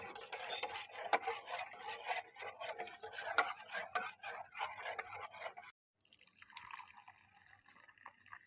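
A curd starter mixed with milk is poured into a pot of warm milk, giving a soft, continuous trickling and splashing of liquid with faint drips. A short pause follows, then quieter liquid sounds.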